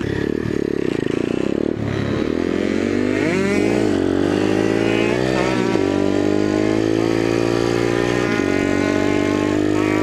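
A stock Yamaha YZ80 two-stroke pit bike engine screams at full throttle, revving hard and steadily with wavering pitch as it is held maxed out, loud and close throughout.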